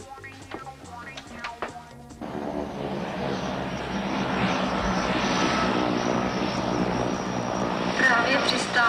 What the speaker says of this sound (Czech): Právě přistává letadlo společnosti Slov Air na pravidelné lince Praha Mariánské Lázně.